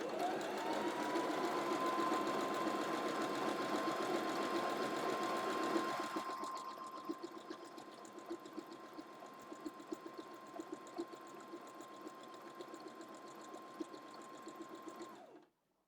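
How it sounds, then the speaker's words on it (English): Close, steady whir of a sewing machine sewing down a fabric strap on an off-shoulder tie-top, fading to a quieter hum with light clicks after a few seconds before cutting out. "now let me just sew the other strap"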